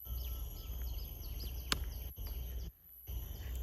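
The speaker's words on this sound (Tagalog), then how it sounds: "Mga awit ng mga ibon." Birds sing quietly in a peaceful nature park on Coney Island, Singapore, with faint, scattered chirps over soft ambient background and no voices.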